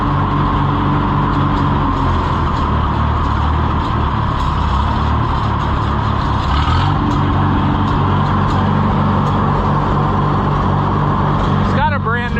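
After a jump start, a vehicle engine with a brand-new motor idles in a steady, close, continuous drone. Voices talk over it at points.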